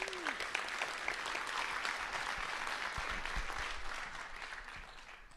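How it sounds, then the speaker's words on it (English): A hall full of people claps in a sustained round of applause at a school district employee recognition ceremony, dense and steady throughout before easing slightly near the end. "Let's give them one more round of applause"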